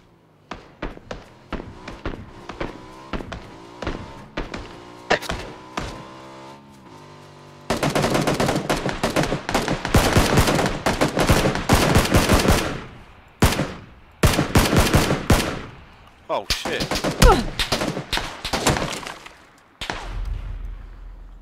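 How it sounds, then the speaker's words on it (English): Gunfire in PUBG, a loud, close burst of rapid automatic shots followed by a long sustained volley, then scattered single cracks and short bursts with brief gaps between them. "Oh no, he's shooting again."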